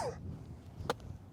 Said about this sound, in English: Excuse my little cough here.